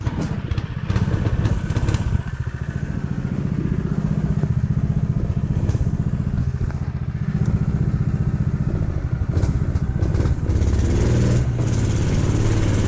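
A gas-motor go-kart engine runs loud and steady close by for the whole stretch, its throbbing motorcycle-like drone broken by clattering thumps from the rough off-road ride.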